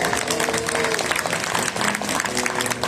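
Audience applause at a Hersheypark animal show, cheering for Coco the performing animal: dense steady clapping from a crowd, fairly close and continuous throughout, with no clear voices over it.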